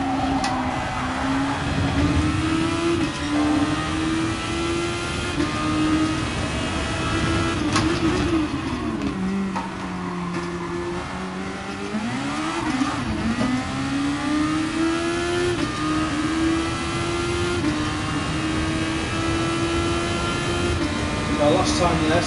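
Open-wheel race car engine in GT Sport rising and falling in pitch as it accelerates, drops through gears and revs again, loud and continuous under a talking voice.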